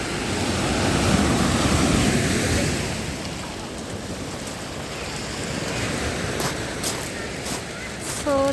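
Winter waves wash ashore at Woodbine Beach in Toronto, a steady, close rush of surf with wind noise over it and no clear break in the roar.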